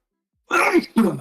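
A person sneezes nearby, a sharp two-part burst standing alone after silence, loud and close.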